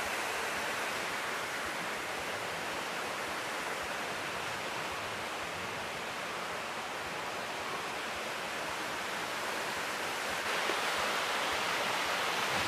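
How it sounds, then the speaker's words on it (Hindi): Water rushes and splashes continuously in a steady, broadband roar from many small waterfalls flowing nearby down a hillside, with no voices and no breaks. "ऐसे छोटे छोटे बहुत सारे झरने यहाँ ऊपर तक ऐसे ही बह रहे हैं"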